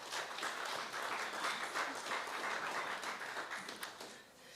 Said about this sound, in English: So please give yourselves a very, very huge round of applause